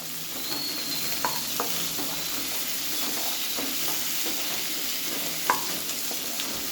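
Spices and melon seeds being sautéed in a pan for dhaba-style shahi paneer, with a steady close sizzle and occasional scraping stirs, no voices.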